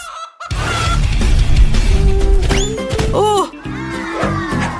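Chicken clucking inside a Freddy Fazbear video game: a few squawking, honk-like calls around the middle, set against a dense, busy backdrop of game sound.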